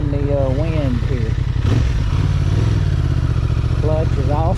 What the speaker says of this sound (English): We're just going to listen to the engine and the wind here.